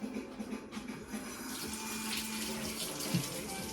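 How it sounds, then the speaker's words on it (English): Tap water runs steadily into a sink as hands are rinsed in a home kitchen, a close, even wash of running water with faint splashing and no talk. "We're gonna rinse our hands."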